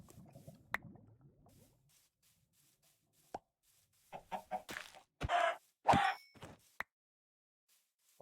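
Chickens clucking in a pixel-art sandbox game, several short separate clucks and plops scattered after a stretch of quiet, a few louder bursts near the end, no talking.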